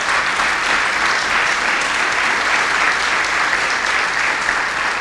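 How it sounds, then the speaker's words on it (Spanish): A church congregation applauds during a service, dense, loud, steady clapping from many people filling the room without any break. "Denle un aplauso al Señor."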